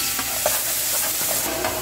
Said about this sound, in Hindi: आप प्याज डालते हैं इसमें बारीक कटे हुए, ये सब डाल के आपने इसको थोड़ा भून लेना है इस तरीके से।